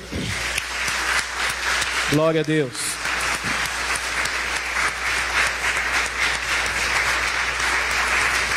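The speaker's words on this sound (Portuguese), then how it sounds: "Vamos aplaudir o Senhor." A church congregation claps loudly and steadily throughout a worship service, a dense, close roar of hands, while a voice briefly calls out over it near the start.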